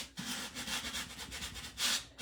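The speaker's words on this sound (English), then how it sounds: "just sand it so that that paint that comes up on the edge of it is just going to look like it's just worn into the side" Sandpaper rubbing along the painted edge of a wooden step stool, a steady run of close, fairly loud scratchy strokes repeating in quick rhythm with a stronger burst near the end, no voices.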